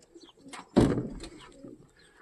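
Pigeons coo and flutter nearby, with a sudden louder burst of wing or body movement midway before settling into soft cooing.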